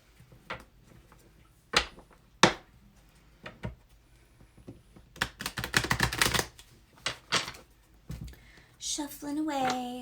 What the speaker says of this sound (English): Shuffling away.